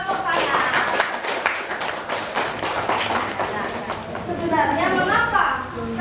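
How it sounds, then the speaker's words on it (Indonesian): A classroom of students clapping hands together during a lesson, brisk rhythmic claps close by, mixed with children's voices and chatter that rise toward the end. "Tepuk tangan."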